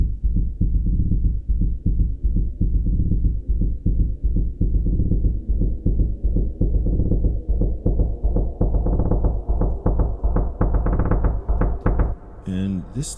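A pulsing synth patch from UVI's Cinematic Shades library beats in a steady, driving rhythm of deep throbbing hits for about twelve seconds, brightening as a high-cut filter opens, then gives way to a short brighter tail.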